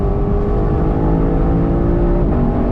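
A Lexus LC500 convertible's engine roars loudly and continuously at high revs, a deep, steady growl heard up close with a slight pitch shift near the end.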